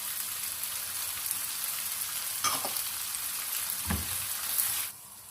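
Whole garam masala spices fry in hot oil for a chicken and green bean salan, giving a close, steady sizzle with a couple of sharper crackles before it drops off at the end.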